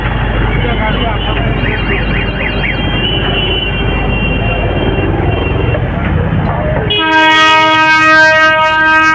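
A train rumbles loudly past close by at a level crossing, then a long, blaring horn sounds in the final seconds.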